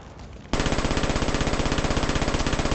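Loud, rapid automatic gunfire in a Batman video game, a steady rhythmic stream of shots that starts abruptly and continues without pause.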